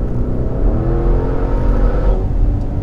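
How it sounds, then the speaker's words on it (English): The V8 engine of a 2019 Maserati Levante Trofeo revs in a deep, continuous roar, loud and close, holding steady for a few seconds with no talking. "the sound of a V8 engine, I just love it"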